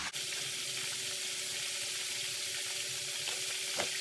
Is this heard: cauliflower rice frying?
yes